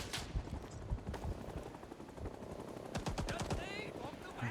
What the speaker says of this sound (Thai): เห็นแต่ลูกกระสุนมันป๊อกป๊อกป๊อกป๊อกแต่ว่า มันยิงจากตรงไหนก็ไม่รู้